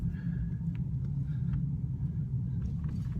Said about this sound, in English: so I'm gonna just kind of brake here